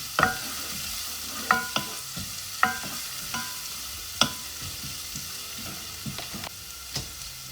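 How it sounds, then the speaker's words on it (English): Garlic, pimento seeds and cloves sautéing in a pot for Jamaican rice and peas, a close, steady sizzle broken by sharp clicks of a utensil stirring at irregular intervals, with no voices. "I'm just gonna saute this"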